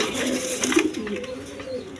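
Big-sized rasgolla pigeons coo in a farm loft, a low rolling call rising in the middle of the stretch, near and moderately loud over a steady background.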